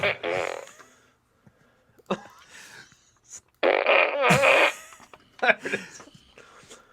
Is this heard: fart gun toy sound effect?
yes